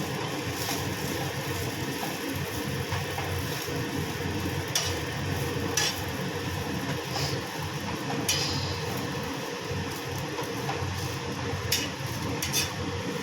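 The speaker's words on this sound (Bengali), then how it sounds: "তেল দিয়ে একটু ভাজা ভাজা করে নেবো" Food sizzles steadily in hot oil, a close continuous hiss broken by occasional sharp pops and crackles.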